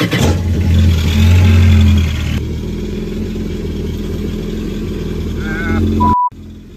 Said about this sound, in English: now let's fire up the ski.